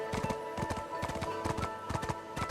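Horse hooves galloping in a forest in the Black Desert video game, a fast, steady clatter of clip-clop beats with a faint whinny, close and loud without talk.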